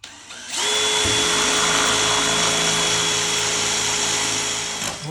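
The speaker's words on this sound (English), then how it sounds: "put your drill just on normal drill, not hammer, and then we start" A power drill in normal mode, not hammer mode, whirs steadily at full speed for several seconds while fitting a bathroom extractor fan, close and loud, then stops.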